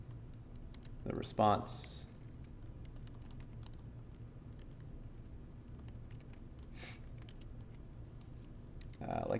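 Soft, quick clicks of typing on a computer keyboard during a coding demonstration, faint and close, mostly in a short cluster early on, with someone speaking.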